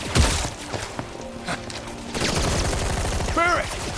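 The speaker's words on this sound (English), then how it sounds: "just run through the gunfire." Gunfire in the video game Final Fantasy VII Rebirth, loud bursts and shots layered with game effects and a short rising chirp near the end.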